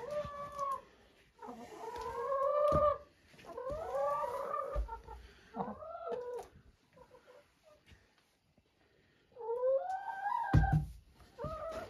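Chickens in a coop give bursts of clucking and squawking calls, close by and fairly loud, with short pauses and a sharp knock near the end.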